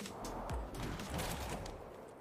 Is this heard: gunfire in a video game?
yes